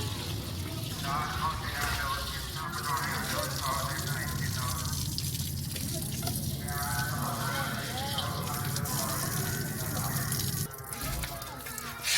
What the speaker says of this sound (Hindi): अब शलजम को हम धोएंगे